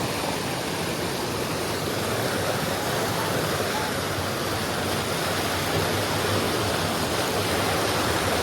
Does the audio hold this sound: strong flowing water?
yes